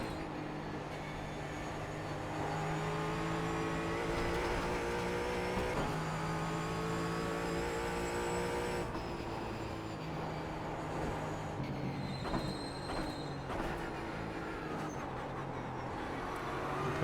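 A Ford Mustang race car on track accelerating out of turn 1 at Summit Point, engine note climbing through steady revs and gear changes, heard from inside the car, droning and continuous without talk.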